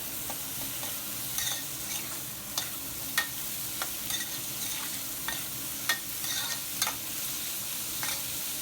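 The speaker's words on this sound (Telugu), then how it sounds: "ఫ్రై అయిన ఈ ఆనియన్స్లో ఈ కాకరకాయ ముక్కల్ని కూడా ఇలా వేసి ఒక్కసారి బాగా కలుపుకొని" Bitter gourd pieces are stirred into onions frying in oil, with a steady close sizzle under irregular sharp scrapes and taps of a spatula against the pan. No one talks.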